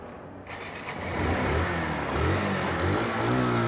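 A small motorcycle pulls away, its engine rising from a low rumble to a steady, louder drone that holds for a few seconds, with no voices.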